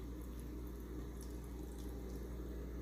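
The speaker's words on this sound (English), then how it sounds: "Then I'm gonna add some water." Tap water runs steadily into a pot of chopped cabbage for a cornbeef-and-cabbage dish, a continuous close splashing pour with no talking over it.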